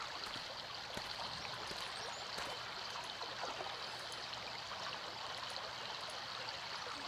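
A river stream flows steadily in the video game Anna, a continuous close rushing and trickling wash of water at an even level throughout, with a few faint clicks on top.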